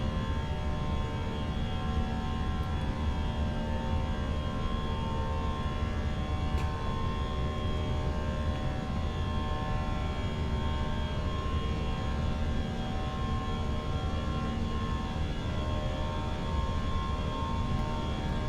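A Eurowings Airbus A319 departing Sylt for Düsseldorf climbs after takeoff with engines at climb thrust. From inside, a loud, unbroken jet drone with steady humming tones holds for the whole stretch, with no talk.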